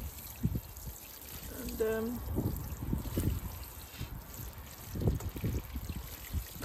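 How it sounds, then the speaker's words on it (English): Water from a watering can splashes and trickles into a potted Jerusalem artichoke in soft, uneven bursts, faint and close, with a voice speaking briefly among the pours. "that's a whole watering can I'm just giving it"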